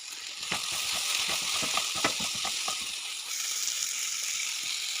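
Tomato and green chilli sautéing in a pan, a steady close sizzle with a run of stirring scrapes and taps early on, then even frying alone.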